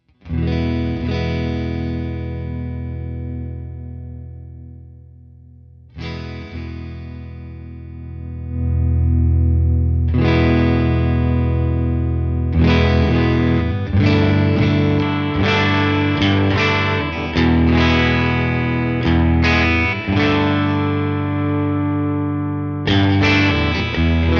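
Distorted electric guitar chords through a Tone King Imperial tri-tube preamp pedal ring out loud and sustained, with a few pauses and restrikes, thick overdriven tone and some echo tail.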